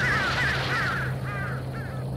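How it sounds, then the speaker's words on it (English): A crow caws in a series of four or five harsh, raspy calls at a moderate distance over a steady low hum. "Would you look at me? I'm scared of a crow."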